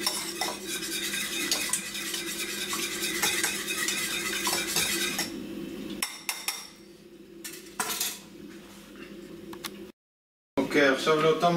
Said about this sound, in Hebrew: אני שובר כאן לתוך הקערה הקטנה הזאת 3 ביצים, עכשיו מעט לשקשק אותם.